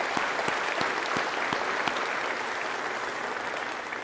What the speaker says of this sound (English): Let's give a round of applause to USF Board Chair Will Weatherford.